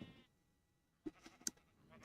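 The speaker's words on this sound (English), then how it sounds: "Sheep baas to the left, to the right." Sheep in the Minecraft video game bleat in short, quiet baas, a couple of brief calls popping up in otherwise near silence.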